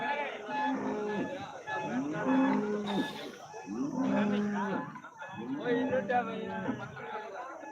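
Repeated low cattle moos overlap with a crowd of voices at a busy, noisy outdoor cattle market, the calls coming in waves over steady background chatter.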